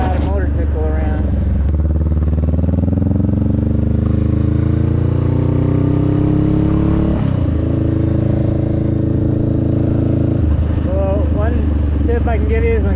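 A motorcycle engine hums and revs while riding, the pitch rising and falling with gear changes, loud and steady up close.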